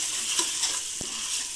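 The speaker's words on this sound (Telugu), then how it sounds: "ఇప్పుడు ఇదిగో ఇందులోకి అల్లం వెల్లుల్లి పేస్ట్ వేసుకుని కొంచెం వేపుకుందామండి." Ginger garlic paste fries with onion pieces in a pan, a steady close hiss of sizzling oil with light stirring scrapes throughout, no voices.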